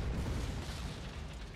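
Artillery fire in the strategy game Panzer Corps Gold comes as a continuous heavy low boom and rumble, loud and sustained across the whole moment, with no talking.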